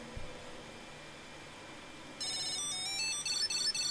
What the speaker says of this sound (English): And it'll continuously ring until you hit done.